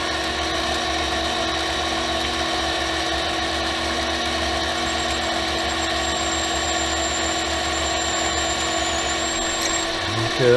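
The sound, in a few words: drilling a 1/4 inch hole on a mini lathe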